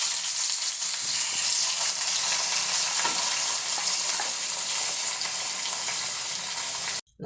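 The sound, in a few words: mixing chili powder into ambazhanga pickle in a pan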